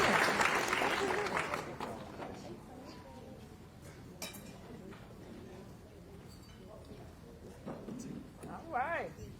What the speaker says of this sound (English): I want you to clap it up for him